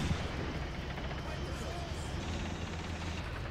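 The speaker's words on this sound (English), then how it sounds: "That's our incendiary grenades." Dense, continuous roar of battle from a World War II combat game on the 1943 Donbass front, with incendiary grenades bursting amid steady gunfire and rumbling low booms, loud and unbroken throughout.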